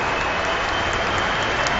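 A cricket crowd applauds at a 2007 England versus India Test as VVS Laxman reaches 5,000 runs, dense, steady clapping filling the ground, loud and unbroken for a couple of seconds.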